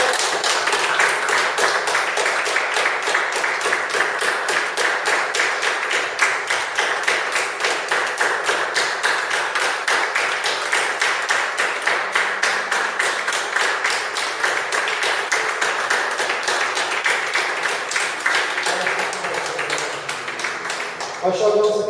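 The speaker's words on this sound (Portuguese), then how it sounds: "Posso ouvir uma salva de palmas ao Senhor?" A church congregation claps steadily in an even, rhythmic beat for the whole stretch, loud and close, with voices audible underneath.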